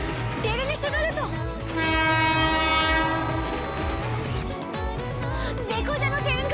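A train pulls into a station, its long horn blaring loud and sustained for a couple of seconds over the rumble of rolling carriages, with voices around.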